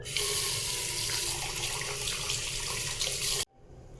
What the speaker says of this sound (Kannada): ಕೆಲವು ಕಡೆ ಕೈ ಹೀಗೆ ಇಟ್ಟರೆ ನೀರು ಬರ್ತದೆ